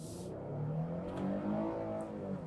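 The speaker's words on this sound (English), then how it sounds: "hit the shifter over to the side, and let's get back up to highway speed" A naturally aspirated Nissan Frontier Pro4X midsize pickup truck accelerates hard toward highway speed, its engine drone rising steadily in pitch inside the cab with a constant road rumble beneath.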